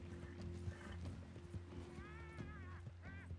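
Horse hooves clip-clop in the video game Red Dead Redemption 2, a steady trotting rhythm over a droning game soundtrack, with a brief whinny-like tonal call partway through.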